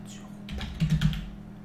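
Typing on a computer keyboard, a short burst of soft, close key clicks with a slightly louder cluster near the end, quiet and without talk.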